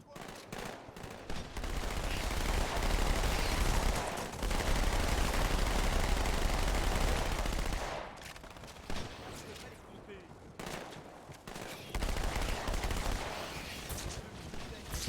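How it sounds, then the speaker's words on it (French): Bursts of automatic gunfire in Halo 2 Anniversary, dense rattling volleys lasting several seconds at a time, broken by brief pauses, with someone talking over the shooting. "Quand je tire, j'essaie de viser."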